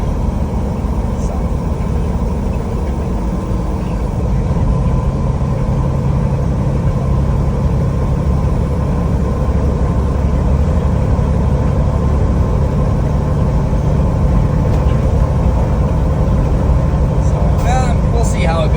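Steady low rumble of a truck cab interior while driving, a continuous engine and road drone filling the whole stretch at a constant level, with no voices over it.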